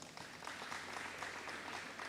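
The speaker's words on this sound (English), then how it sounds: "Can we give them a round of applause?" Sustained audience applause at an automotive investor launch event in East London, South Africa, steady dense clapping from a crowd filling the hall for about two seconds with no talk over it.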